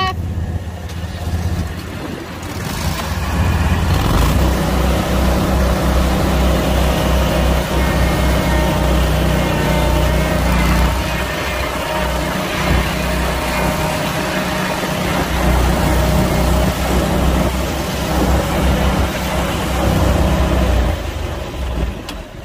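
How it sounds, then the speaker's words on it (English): A lawn mower engine, just started for mowing a large overgrown water park, rumbles loud and steady, swelling after a quieter opening and holding a constant low drone with faint voices underneath. "Okay, turn your mower on,"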